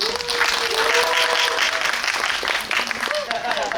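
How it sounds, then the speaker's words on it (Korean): Audience at a film guest-visit screening event for Dolphin applauding loudly, a dense steady clapping wash that holds for several seconds, with a voice speaking over part of it. "권유리 배우님을 캐스팅을 하신 거에 박수를 좀 드리고 싶네요."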